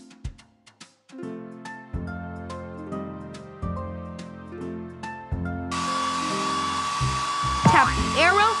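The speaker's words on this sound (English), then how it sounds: "Tap the hair dryer to blow dry the pup's hair." Hair dryer blowing steadily in a Paw Patrol pup-grooming video game, a bright whirring hiss that switches on partway through over bouncy background music and holds loud until the end, with a brief chirpy effect near the close.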